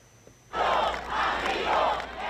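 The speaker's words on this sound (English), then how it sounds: "The crowd is chanting," A large crowd at a Venezuelan political rally for President Nicolas Maduro bursts into loud, rhythmic chanting after a brief quiet moment, voices swelling in repeated waves.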